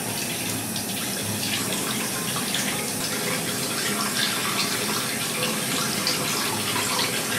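Bathroom tap water running steadily at the sink during face washing, a constant close gushing hiss that stays even throughout with no talking.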